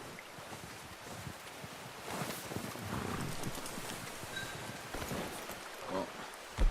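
Horse hooves clip-clop steadily in Red Dead Redemption 2 over windy outdoor ambience, a faint continuous walking rhythm through the whole stretch.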